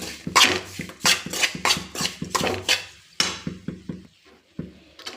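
Grated organic jaggery being stirred into ragi flour and ghee, a spoon knocking and scraping against the pan in a quick, steady rhythm of close clatters, then slowing to a few lighter taps.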